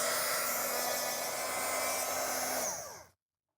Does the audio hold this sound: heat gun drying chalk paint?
yes